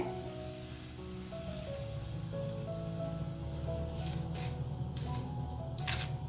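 A jowar roti cooks on a hot pan over a medium flame, giving a steady, moderately quiet sizzle with brief hissing bursts as water is dabbed on its surface.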